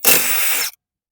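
A power tool, likely an impact gun, spins off an 18 mm nut from a Toyota front lower ball joint in one loud, steady burst of about 0.7 seconds, then stops abruptly, leaving silence.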